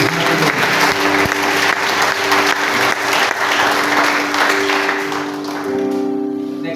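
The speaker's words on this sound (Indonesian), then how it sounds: "Kau berikan tepukan untuk Tuhan lagi." A church congregation at a Christmas service claps steadily together, a dense, loud wash of applause that holds for several seconds before thinning, with a sustained organ or keyboard chord ringing beneath it.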